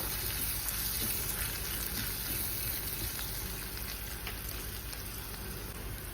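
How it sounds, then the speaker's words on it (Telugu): Coarsely pounded spices frying in hot oil for tomato rice, a steady, even sizzle and hiss that holds at a constant level throughout with no talking. "మంచిగా ఫ్రై చేసుకోవాలి. ఇవన్నీ మంచిగా వేగే వరకు."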